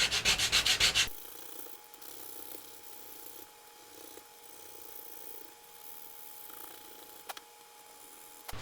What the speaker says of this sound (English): got a lot of sanding to do